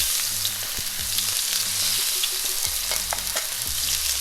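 Sea bass pieces frying in a pan for an Indian fish curry, a loud, dense continuous sizzle with a few faint scrapes and taps, close up and without talk.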